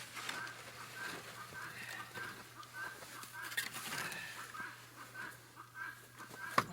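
Chickens cluck and murmur softly in a coop on a snowy homestead, scattered low calls spread through the clip at moderate distance, with a steady hum underneath.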